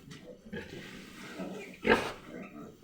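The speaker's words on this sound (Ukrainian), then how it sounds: "Диви, яка красива свинка в нас." A pig grunts and snorts nearby, with one louder squeal-like grunt midway, while people talk quietly in the background.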